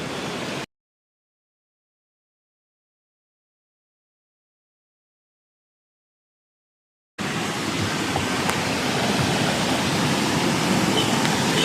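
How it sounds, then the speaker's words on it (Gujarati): Rushing floodwater after heavy rain in Junagadh roars as a loud, broad, continuous wash, briefly at the start, then silent for several seconds, then resuming steadily. "આ જો પાણી અત્યારે બહુ પાણી આવ્યું"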